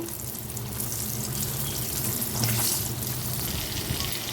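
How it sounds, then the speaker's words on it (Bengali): Half-boiled potatoes frying in oil with salt and turmeric, a low, continuous sizzle that swells slightly midway, with no talking. "এখন আমি এই যে হাফ সিদ্ধ করে রাখা আলুগুলোকে প্রথমে আমি ভেজে নেব"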